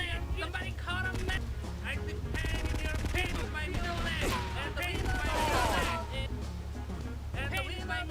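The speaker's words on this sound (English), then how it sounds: "I guess they are going to be shooting at me" Dense video-game gunfire in GTA III, rapid automatic bursts and shots crackling continuously and loudly for several seconds, mixed with a low engine rumble and a voice talking.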